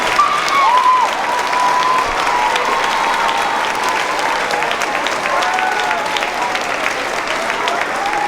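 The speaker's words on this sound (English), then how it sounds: "If we could have one more round of applause to our heroes sitting here." Sustained applause from a crowd, steady dense clapping throughout with a few faint whistles or voices mixed in.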